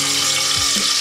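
Small onions for sambar fry in a pan with a loud, close, steady sizzle over a brief stretch.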